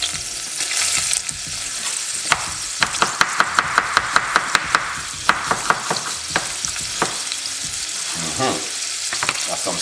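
Carrot and garlic frying in a pot sizzle steadily, with a run of sharp utensil knocks and stirring taps through the middle.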